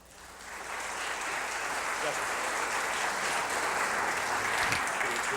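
Sustained applause from a large audience after a speech at a conference, steady and full throughout, rising quickly at the start and holding at an even level.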